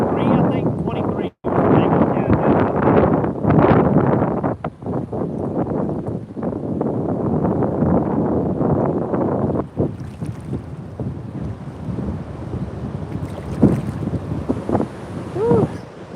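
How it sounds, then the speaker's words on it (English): Strong wind gusts on a river during catfish fishing from a boat, a continuous broadband roar buffeting the microphone up close, loud through most of the stretch and easing toward the end, with a few faint voices and knocks beneath. "Wind come up out of nowhere."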